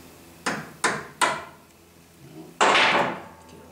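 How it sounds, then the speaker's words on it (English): Hammer tapping a brake part into place on a C3 Corvette Stingray during a rotor and caliper install: three quick close taps, a pause, then a heavier, longer knock. "Tap it in with the hammer. Not hard,"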